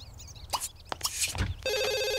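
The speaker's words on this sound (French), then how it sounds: "Téléphone." A telephone rings in The Sims 2, a steady electronic ringtone that comes in during the final second, clear and upfront after a stretch of soft game sounds and clicks.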